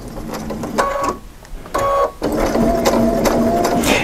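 A sewing machine stitches a seam on a fabric phone bag, its motor whirring in steady bursts with two short pauses, close and fairly loud.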